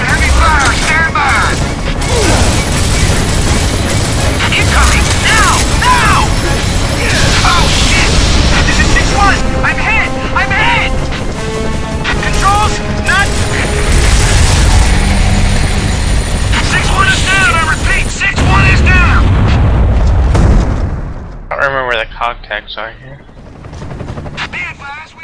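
Dense, loud combat from Gears of War fills the scene, with rapid machine-gun bursts, booms and mechanical clatter running nearly continuously under radio-style voices, then thinning into scattered softer sounds near the end.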